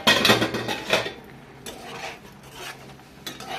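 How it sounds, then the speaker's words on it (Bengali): A metal lid comes off a cooking pot with a few quick clanks and clinks close by. Quieter metallic taps and a faint low simmer follow. "তো আবারও 4 মিনিট পর ঢাকনা তুলে দেখে নিচ্ছি।"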